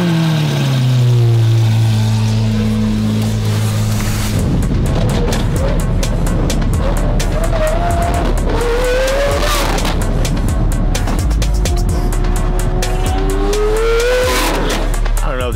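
A Lamborghini Aventador with straight pipes fires up with a loud starter whine, then its engine barks and revs hard in sharp repeated bursts, very close and dominant, with a rough crackling idle between throttle blips.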